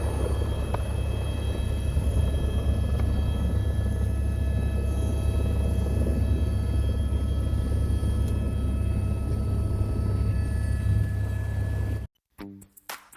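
Helicopter ride on the Amarnath Yatra route near Panchtarni: a loud, continuous low rotor and turbine rumble with a steady whine, heard from inside the cabin, cutting off abruptly near the end.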